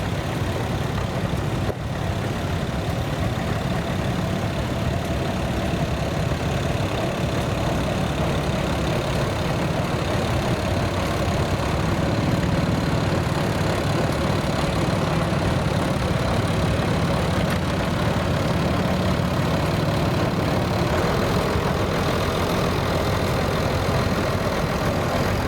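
Continuous rumble of an antique tractor engine in a tractor show parade, a steady loud low drone with road and crowd ambience and no clear pauses.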